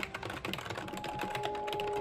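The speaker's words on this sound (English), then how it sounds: "The keys need way too much force to actually push down," Fingers clack rapidly on a computer keyboard with stiff, loud keys, a quick irregular patter of sharp clicks close by, with no one speaking.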